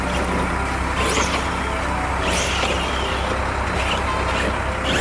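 Arrma Kraton BLX V4 6S electric RC car drifting on asphalt at a job site: a loud, continuous motor whine with repeated sweeping tyre-scrub bursts as it slides, no talk.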